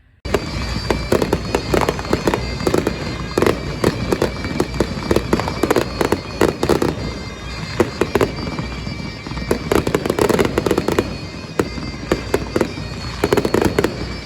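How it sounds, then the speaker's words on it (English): Loud fireworks at the Texas Renaissance Festival crackle and bang in a rapid, nonstop barrage, dense bursts overlapping throughout. "these fireworks, better than any 4th of July firework demonstration I've ever seen"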